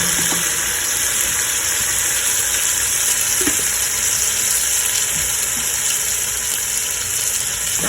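Blended tomato hitting a pan of frying Malawi-style local chicken stew gives a steady, close hiss and sizzle that fills the whole stretch, with faint stirring clinks and no talking.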